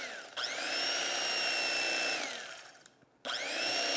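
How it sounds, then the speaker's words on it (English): An electric carving knife slicing into a roast turkey breast gives a loud, steady high-pitched motor whine with a bright tone, easing off briefly and then starting up again, with no talk. "And I got my trusty electric carving knife."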